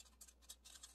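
Scissors snip a folded corn husk in a few quick, faint cuts, with one sharper snap at the very end.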